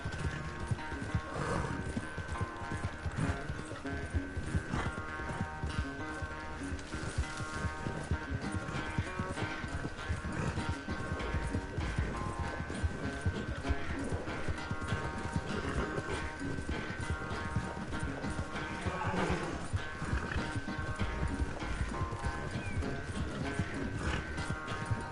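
A horse gallops in Red Dead Redemption 2, giving a continuous, fast, rhythmic beat of hooves that runs steadily the whole time.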